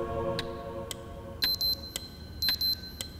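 An alarm clock rings in short, sharp bursts at a steady pulse, clear and close over a quiet low room hum, with no voices present.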